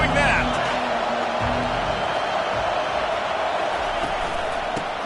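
Steady roar of a large stadium crowd cheering at a Miami versus Notre Dame college football game, loud and continuous throughout with a brief whoop near the start.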